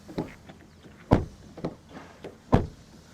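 A Maruti Suzuki Fronx Delta+ (O) car door being shut, giving two solid, fairly loud thuds close by with a few lighter clicks and knocks around them.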